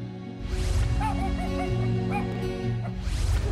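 A rescued aspin, once a stray, gives several yips and whimpering barks close by over a low background hum, in short broken bursts.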